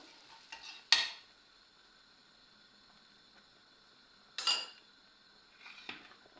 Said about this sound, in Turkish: pul biber ekliyorum. Şu şekilde güzelce karıştıracağım.